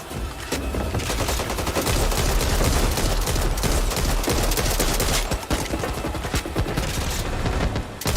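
Video game gunfire roars in continuous, dense volleys of overlapping shots, loud and unbroken from start to finish, with no voices.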